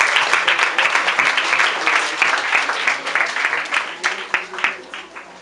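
An audience in Mandeni applauding at a gathering, a dense sustained round of clapping that continues at steady strength before thinning into scattered, sharper individual claps near the end.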